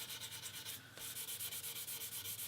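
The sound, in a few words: sanding wood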